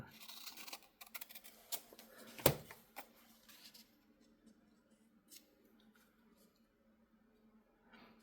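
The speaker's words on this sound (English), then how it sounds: "I can trim that off." Scissors snipping through paper while trimming pieces for a Celtic-themed junk journal, a handful of close, crisp cuts clustered early, with one sharp loud snip, then quieter faint handling.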